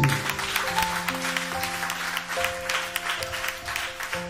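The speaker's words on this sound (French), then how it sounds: "Acclame fort Jésus." A church congregation applauding Jesus, steady clapping with music and sustained tones underneath, moderately loud and continuous, no speech.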